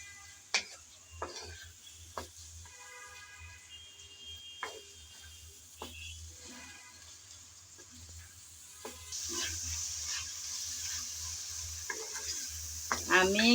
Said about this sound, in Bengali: আমি কিছুক্ষণ সময় ধরে চিকেনটাকে ভেজে নিয়েছি